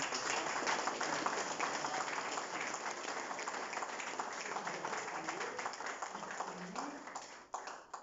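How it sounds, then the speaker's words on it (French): An audience at a presentation event in Mauritius gives sustained applause, a broad wash of many hands clapping that fades slightly toward the end, with some speech faintly beneath. "vous allez applaudir très très fort"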